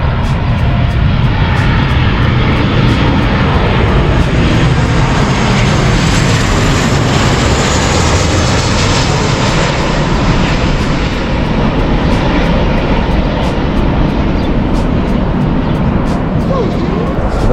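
Out in the open at Zante airport, a passenger airplane lands with a loud, continuous jet engine roar and rumble that stays steady for many seconds, alongside some wind noise.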